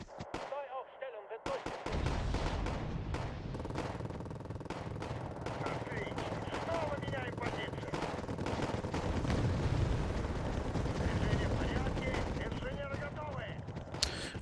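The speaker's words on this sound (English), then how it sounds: "My special German force seem to be shooting those infantry reinforcements" Gunfire from German special forces shooting at infantry reinforcements in the Wargame: AirLand Battle strategy game, a dense, continuous rattle of shots and explosions that runs loud and steady for most of the clip with talk over it.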